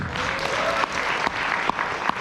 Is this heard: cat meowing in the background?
no